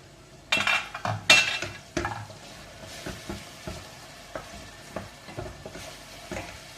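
Onions frying in a pan while a utensil stirs them, a soft steady sizzle under repeated clinks and scrapes against the pan, louder bursts at first then lighter regular knocks.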